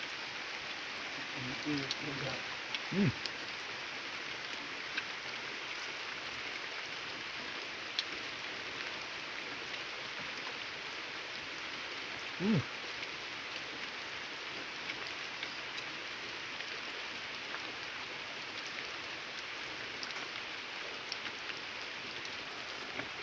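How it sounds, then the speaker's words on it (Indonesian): Steady rain patters by a small river during a crab-hunting outing, a continuous soft hiss with a few brief knocks, moderately close and with no talk over it. "Ditambah hujan, suasana jadi makin mantap."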